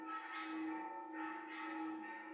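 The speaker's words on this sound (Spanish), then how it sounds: "no sé si se oyen las campanas" Church bells ring close by in steady sustained tones, their loud, even peals swelling and fading in slow waves with no voices over them.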